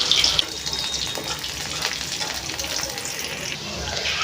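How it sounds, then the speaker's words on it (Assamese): Fish being re-fried in oil in a home kitchen pan, a loud continuous sizzle and crackle throughout with faint clinks near the start. "সেইকাৰণে আকৌ এবাৰ ফ্ৰাই কৰি দিছোঁ।"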